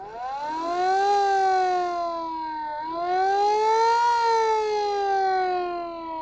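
A mechanical Sterling vehicle siren, run at reduced voltage through a variable resistor, winds up to a loud wail, eases down, then winds up again in two long rising-and-falling cycles, close and steady.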